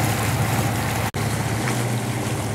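Constant loud rush of water churned behind a boat by the propeller of a Yamaha Enduro outboard engine, a broad roar with steady low engine drone, heard on the Kali Cokel in Pacitan.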